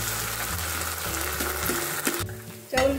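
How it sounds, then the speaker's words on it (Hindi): Washed rice frying lightly in melted ghee in a pan for coconut kheer, a steady close sizzle with stirring scrapes, briefly quieting before a louder burst of frying at the end. "घी मेल्ट हो गया, जो राइस वॉश करके रखा था वो ऐड कर दिया। हल्का सा फ्राई कर लूंगी"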